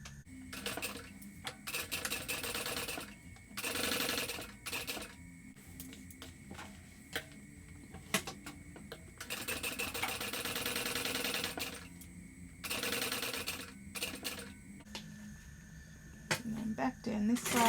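A sewing machine top stitching along the edges of a backpack, running in bursts of rapid mechanical stitching with brief stops between, close by, while a person talks over it.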